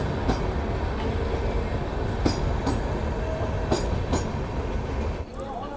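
Dehradun–Shakurbasti Mussoorie Express LHB train pulling into platform 1, a steady loud rumble of rolling coaches with rhythmic wheel clacks and brief squeals, fading slightly at the end.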